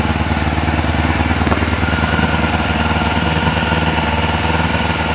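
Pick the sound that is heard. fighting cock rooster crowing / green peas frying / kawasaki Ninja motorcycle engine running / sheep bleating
kawasaki Ninja motorcycle engine running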